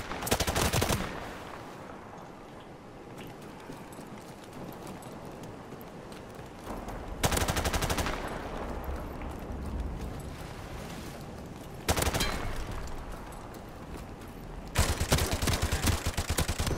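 Bursts of M4 rifle fire in a video game, several loud rapid volleys separated by quieter stretches of ambient game noise, with no talking.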